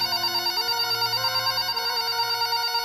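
A telephone rings at home with a warbling electronic tone, steady and moderately loud across the whole stretch.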